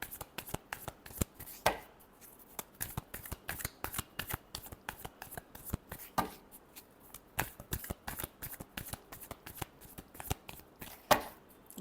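Tarot cards are shuffled by hand in quick, rhythmic bursts of crisp riffling and tapping, with sharper slaps at intervals, close and clear with no voices.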